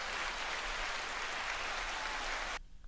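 A room full of hands clapping in steady, dense applause on a podcast set, holding even for a few seconds before cutting off abruptly.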